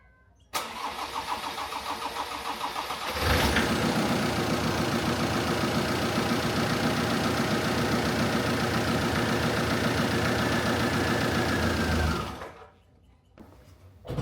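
A Land Rover engine, freshly swapped in after the old one blew, cranks and then catches, running steadily and loudly for about nine seconds with a busy mechanical clatter before it shuts off abruptly.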